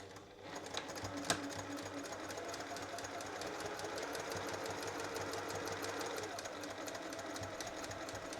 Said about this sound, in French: je suis à la machine à coudre, je vais piquer à 1 cm au point droit